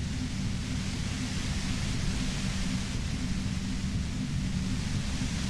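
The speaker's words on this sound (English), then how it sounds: "You hear through the white noise." A static white noise effect from the video game Disco Elysium hisses continuously, a dense steady roar with a heavy low rumble, even in loudness throughout and free of speech.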